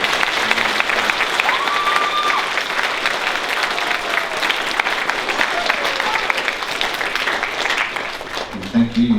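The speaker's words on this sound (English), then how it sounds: "give our outgoing captains a round of applause" An audience at a school presentation day ceremony applauds its outgoing captains, with sustained, dense clapping filling the hall at a steady level for several seconds before tapering off at the end.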